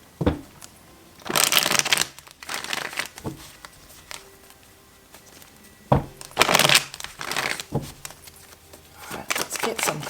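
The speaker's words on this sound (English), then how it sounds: "let's get some cards on this one" Tarot cards being shuffled by hand, with bursts of riffling and flicking at the start and again near the middle, close and fairly loud between quieter pauses.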